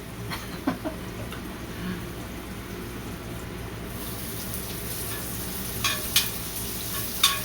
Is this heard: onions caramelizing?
yes